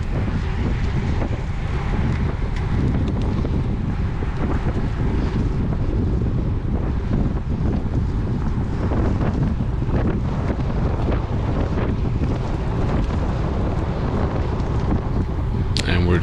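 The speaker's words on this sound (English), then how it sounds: "And we're back heading into the wind." Steady headwind buffeting a bike-mounted microphone during a Cat 4/5 spring road race, a continuous loud low roar that fills the whole stretch without a break.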